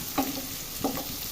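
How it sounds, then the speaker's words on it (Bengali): Bay leaf, cinnamon and cardamom sizzle with onion in a pan as a spoon stirs them, giving two soft scraping strokes over a steady, gentle frying hiss. "এখন আমি এই পেঁয়াজের সাথে দিয়ে দিতেছি। তারপর এর সাথে আমি নাড়াচাড়া করতেছি"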